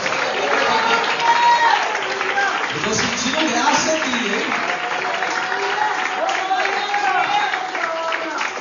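Church congregation applauding during a sermon, a continuous patter of clapping throughout while a preacher talks over it.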